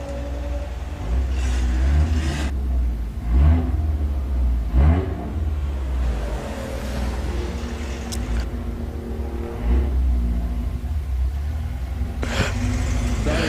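Drag racing cars, among them an Audi TT, accelerate with a deep rumbling engine roar and repeated revving surges, loud and continuous with crowd and ambient noise.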